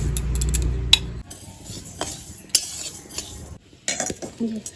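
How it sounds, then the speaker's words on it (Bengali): Mung dal dry-roasting in a wok, with a spatula scraping and clinking against the metal in irregular strokes; a low hum at the start, then sharp close scrapes and taps with short quiet gaps, no talking. "আগে ডালটাকে করে নেব মুগ ডালটা আগে ভেজে নিই"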